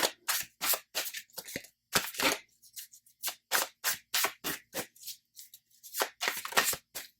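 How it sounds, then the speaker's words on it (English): Close, crisp shuffling of a new, stiff tarot deck in quick irregular bursts of riffling and slapping, separated by short pauses, with no talking. "This is a new deck, so it's a little hard to shuffle right now"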